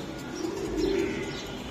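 A racing pigeon coos once in a soft, low, rolling call, close by over a steady background hum.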